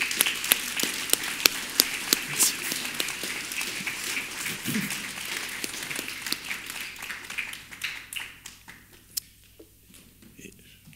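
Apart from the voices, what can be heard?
audience applauding the family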